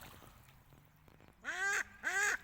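A newly arrived pair of ducks at a park fishing point give two loud nasal quacks in quick succession, close by, after a quieter stretch of faint background sound.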